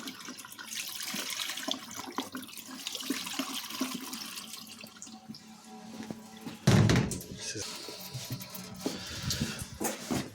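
Water splashes and pours steadily into a Bosch washing machine drum for several seconds, with a heavier gush partway through and some hollow thuds, no voices.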